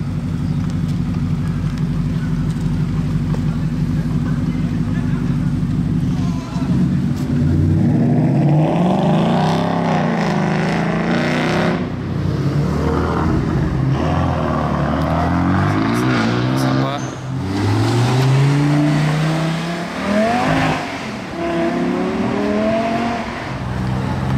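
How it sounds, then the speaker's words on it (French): A Ford Mustang's engine idles with a low rumble, then revs hard in repeated rising and falling bursts, loud and close at a car meet, with voices talking at moments. "on a surtout une Mustang très énervée là"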